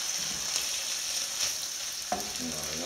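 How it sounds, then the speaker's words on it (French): Squid cooking in a pan as a spoonful of tomato paste is stirred in, giving a steady close sizzle of frying with soft scraping stir strokes and a brief clink near the end. "On mélange hein, pour que tout ça soit lié ensemble."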